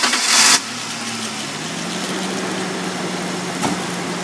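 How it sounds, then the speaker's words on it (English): A van engine cranks briefly and catches, then settles into a steady, loud idle that runs on alone. "I take and get it going there, and I'll crank my van up"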